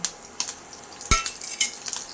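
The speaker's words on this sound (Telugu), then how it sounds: "ఇప్పుడు పోపు దినుసులు వేసుకోవాలి" Tempering spices dropped into hot oil in a kadai on a stove, a light sizzle under sharp metal clinks and scrapes of a spoon against the pan, close and without speech.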